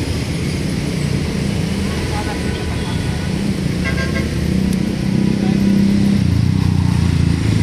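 Highway traffic by Manila Bay rushes past in a steady broadband roar of cars and motorcycles, with a few brief horn toots rising out of the continuous road noise.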